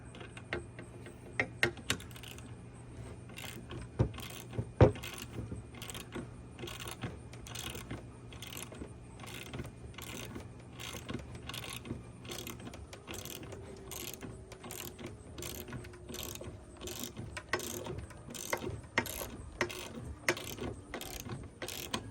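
Socket wrench ratcheting on a front suspension bolt: a long run of quick, even, close clicks with occasional metallic knocks, and no talking.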